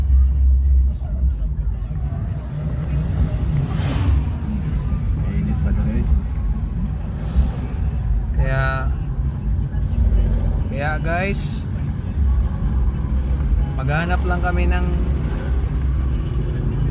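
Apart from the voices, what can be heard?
road traffic from a long line of vehicles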